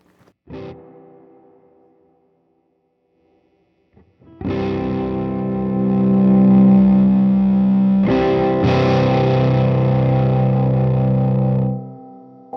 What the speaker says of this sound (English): this will be interesting with that much reverb, that much volume, and a hollow body guitar